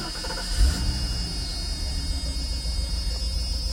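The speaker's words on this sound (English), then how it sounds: "I'll go start the car and show you how this thing was running" A car engine with a vacuum leak idles roughly and misfires, a steady low rumble that shakes throughout, with a brief louder thump near the start.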